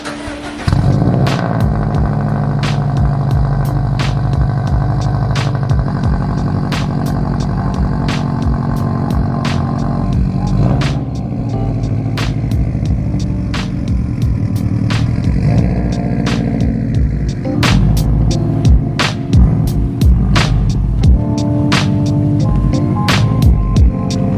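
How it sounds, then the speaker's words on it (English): A Subaru WRX STI with a carbon exhaust cold-starts on a cold evening, settling into a loud, rumbling idle with crackling exhaust pops and occasional revs, close by and continuous, with no talking. "This is gonna be a little juicy cold start for this cold evening."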